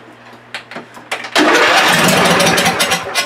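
Free John Deere LA145 lawn tractor engine cranks with a few sputters, then catches and roars into a steady loud run, close by and without talk.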